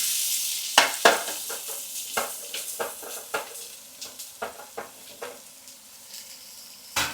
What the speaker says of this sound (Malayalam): അപ്പോൾ ഇപ്പോൾ നമ്മളിതൊന്നിട്ട് ഇളക്കി കൊടുക്കുകയാണ്.